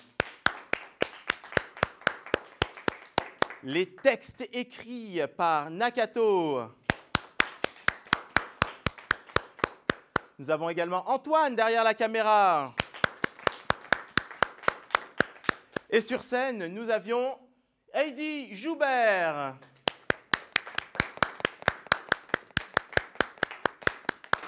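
A theatre audience claps in a steady, even rhythm for the production team, sharp distinct claps going on throughout while a voice speaks over them in stretches.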